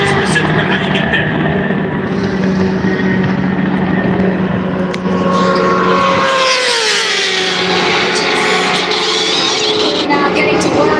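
Race motorcycles at the Daytona 200 idle in first gear down pit row, a loud, steady engine drone with rising and falling revs partway through, set against crowd noise and a voice talking over it.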